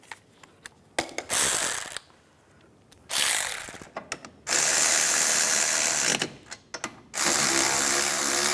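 Ratchet clicking in quick bursts with pauses as a mechanic tightens brake caliper bracket bolts on a 2007-2013 Mini Cooper, close up, several separate runs of rapid pawl clicks with no talk.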